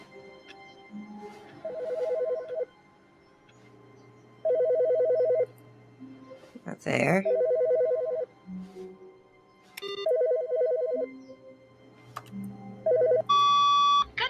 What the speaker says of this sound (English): Is that phone ringing?